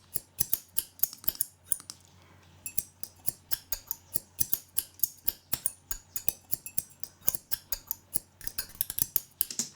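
Scissors snip paper for prayer flags in a quick, steady rhythm of crisp, close cuts, the pattern sometimes shifting into triplets, with no talking.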